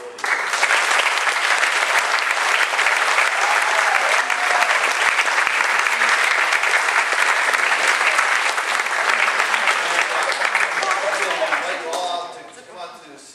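Sustained, loud audience applause thanks the manager and staff of a performing arts center, dense and unbroken for about twelve seconds before fading into talk.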